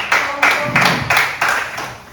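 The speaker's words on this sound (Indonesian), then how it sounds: "beri tepuk tangan untuk penanya dan kelompok" A small group in a classroom claps in a few loose bursts, the sound rising and fading quickly over a couple of seconds.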